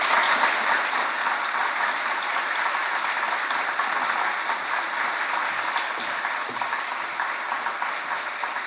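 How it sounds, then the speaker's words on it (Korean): A church congregation applauds warmly during a Sunday worship service, welcoming a visiting pastor; steady, dense clapping fills the room loudly for the whole stretch with no talk over it. "이렇게 큰 박수를 받을 거라고는 생각하지 못했는데"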